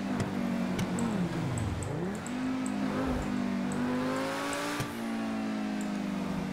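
A fast car in GTA 5 engine drones steadily at speed, its pitch dipping and climbing with gear changes and throttle, close and continuous with faint road noise and occasional clicks.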